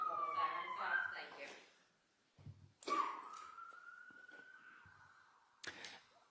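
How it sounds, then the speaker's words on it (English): An emergency siren wails outside a courtroom during a murder trial, a wavering tone that rises and falls and then fades, with muffled room noise and voices in the background. "If you could just wait 1 moment while the siren stops"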